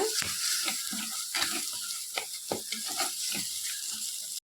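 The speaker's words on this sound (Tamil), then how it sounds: "ரெண்டு ஸ்பூன் சென்னா மசாலா ஆட் பண்ணியிருக்கோம் அதையும் சேர்த்து நல்லா வதக்குங்க" Chickpeas and chana masala spice frying and being stirred in a pan for a white chana masala, with a continuous sizzle broken by repeated scrapes and clinks of the spoon against the pan.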